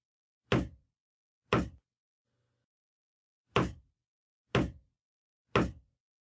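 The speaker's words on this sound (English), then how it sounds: "What's that knocking? Do you hear it? Knock, knock, knock." Knocking on wood in a ghost story's hushed room: three sharp, hollow knocks, a pause, then two more, loud and isolated against silence.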